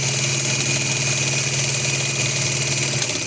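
A sewing machine stitches salwar fabric with a loud, steady, fast mechanical whir and a regular rapid rhythm that runs on without a break, close and alone.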